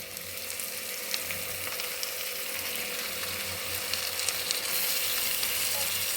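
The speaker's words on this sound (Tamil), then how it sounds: "இது அப்படியே கலந்து வச்சுட்டு கொஞ்சம் கலர் சேஞ்ச் ஆகிற வரைக்கும் நல்லா வதக்கிக்கலாம்" Chicken sautéing in a pan over golden-brown onion paste gives a steady, close sizzle of frying with faint stirring scrapes, continuous throughout and with no voices.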